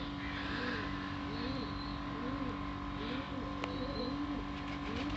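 Pigeons coo repeatedly in soft rolling calls over a steady background hum, fairly quiet and close, with a voice talking at times.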